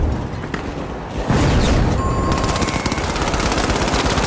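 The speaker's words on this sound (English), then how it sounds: "Frag grenade out." A frag grenade goes off in The Finals, a sudden loud blast that rolls into a sustained, crackling roar of battle noise with rapid gunfire layered over it.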